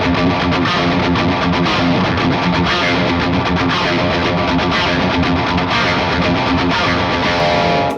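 A dense, distorted electric guitar playing a riff steadily and loudly, drenched in reverb with a full, washing sustain.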